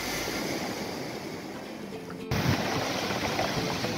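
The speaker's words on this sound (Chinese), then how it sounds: "潮水拍打岸石的声音，哇，真是雄壮。" Pacific tide waves wash against the rocks and pebble beach of a wild coastal trail in Taiwan, a steady roaring surf mixed with wind that swells a little louder midway, with no voices.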